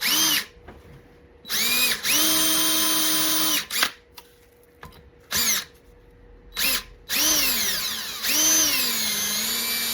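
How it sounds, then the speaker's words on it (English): A power drill bores small steam holes in an engine part with repeated on-off bursts, its motor whining up and down in pitch as each hole is cut, with brief pauses between runs. "So I'm gonna drill the rest"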